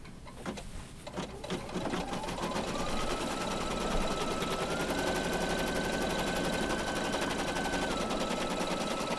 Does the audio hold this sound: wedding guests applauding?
no